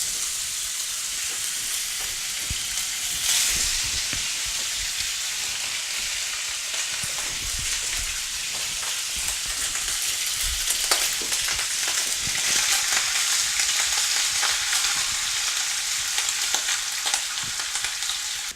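Sliced ham fries in a pan while Chinese fried rice is prepared, giving a continuous bright sizzle with a steady crackle and occasional stirring scrapes throughout, close and fairly loud, with no voices.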